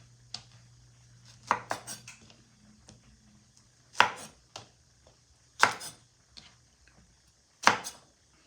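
A knife slices the tops off fresh okra on a cutting board: crisp, close chopping knocks, about six sharp strikes at irregular intervals, separated by near-silence.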